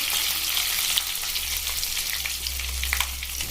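Curry leaves and ground peanuts fry in hot oil for a drumstick-pod vegetable dish, producing a continuous dense crackling sizzle with a low steady hum beneath and a few soft stirring clicks.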